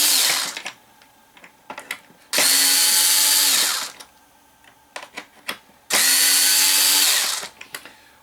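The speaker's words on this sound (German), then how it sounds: "Es empfiehlt sich, die Schrauben erstmal etwas zu lösen" Two loud, close bursts of an electric screwdriver whirring for about a second and a half each loosen screws on a Heng Long RC Leopard 2 A6 tank with metal upgrades, separated by small clicks and handling noises.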